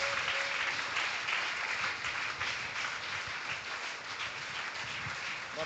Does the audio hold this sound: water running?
no